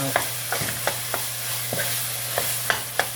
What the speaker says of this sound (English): So I want to brown the meat as much as I can